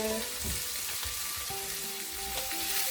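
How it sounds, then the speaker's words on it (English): Curry powder is stirred into a sizzling frying pan for a coconut curry with king prawns, giving a constant loud hiss with light scraping from the stirring. "And you just want to stir that in. Stir that in."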